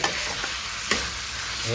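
Steady sizzling of spices frying in a pan for pork curry, with a few soft stirring scrapes; close and continuous, no voices.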